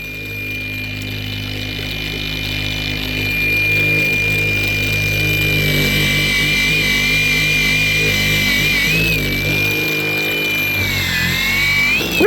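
Close, continuous whine of a power tool sanding a handmade object with a felt pad, rising slightly in loudness and wavering in pitch toward the end.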